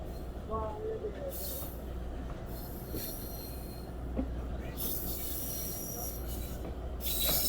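Sialkot Express train running between Lahore and Sialkot, a steady loud rumble of rolling railcars with repeated high metallic wheel squeals rising and fading throughout, heard close and continuous with no speech.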